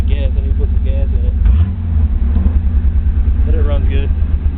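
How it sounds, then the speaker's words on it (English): A Nissan Hardbody pickup truck engine idles steadily with a low, rumbling drone, and a voice speaks briefly over it. "Truck runs strong."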